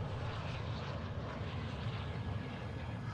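A transport plane's engines drone loud and unbroken in Call of Duty: Warzone 2.0, a dense propeller roar filling the short span with no pauses.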